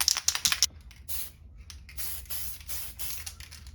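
Spray paint can misting color onto a Tamiya Volkswagen Beetle rally lexan body, short hissing bursts up close with brief pauses between passes, preceded by a few quick rattles.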